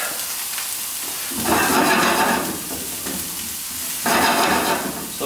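Onions frying on high heat in a pan, a constant sizzle that surges into louder bursts twice as they are stirred, close and alone.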